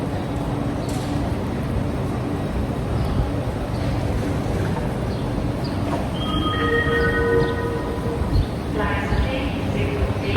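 Train moving through a Swiss railway station, a steady rumbling roll with metallic squealing tones toward the end, heard close and continuous under faint background voices.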